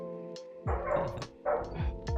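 Dogs bark in repeated bursts, two or three sharp barks at a time, fairly loud and somewhat distant, with brief gaps between.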